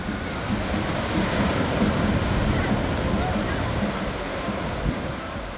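Ocean waves breaking on Kovalam's Lighthouse Beach in Kerala, heard as a loud, steady wash of surf with no clear gaps between breakers.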